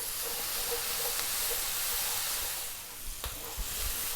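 Chopped onions, garlic and tomatoes frying in a pan over high heat while being stirred, giving a loud, steady broadband sizzle and hiss with a few soft clunks of the utensil toward the end.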